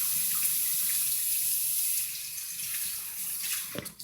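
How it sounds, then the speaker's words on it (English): A kitchen tap runs steadily while hands are rinsed under it, a close, even hiss of flowing water that dips slightly midway and ends with a few splashes and clatters. "I'm going to wash my hands"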